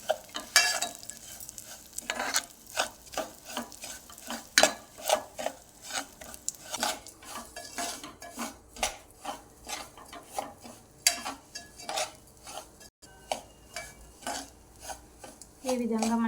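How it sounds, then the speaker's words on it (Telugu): Wheat rava being stirred and fried in a pan until golden for a sweet, with a steady run of rhythmic scraping strokes close by and no talk. "మంచిగా గోల్డ్ కలర్ వచ్చేలాగా వేయించుకోవాలి."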